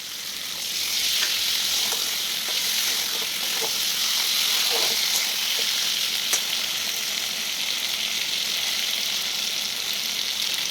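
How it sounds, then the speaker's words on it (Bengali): Spice paste of ginger, cumin, coriander powder and Kashmiri chilli fries in a pan, giving a steady, close, loud sizzle with occasional faint spatula scrapes and no speech. "জল দিয়ে মশলাটাকে একটু কষিয়ে নেব"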